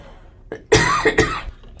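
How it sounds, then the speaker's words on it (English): A person coughs a few times, short close harsh bursts with a brief throat-clearing quality, alone without talk. "I'm just going to cough a minute, sorry"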